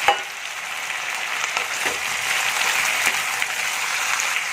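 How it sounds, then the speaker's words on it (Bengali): Onion stalks and spices frying in hot oil for a dried fish dish with onion greens and Malabar spinach seeds, giving a steady, close crackling sizzle that runs evenly throughout with no voices. "এগুলো আমি ভালো করে তেলে ভেজে নেবো, তারপরে আমি মশলাটা অ্যাড করবো"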